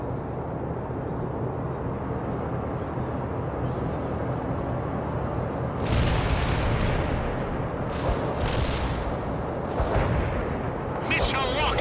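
Missile launches and gunfire in the World in Conflict video game, a Soviet Assault mission: dense continuous battle rumble with several louder bursts of fire from about six seconds on, with radio-style unit voices mixed in.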